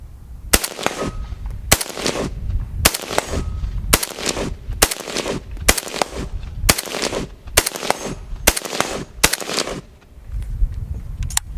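Century Arms RAS-47 AK rifle fired at an outdoor gun range toward steel silhouette targets: about ten loud, sharp, close shots in a steady rhythm roughly a second apart, each with a brief echoing tail.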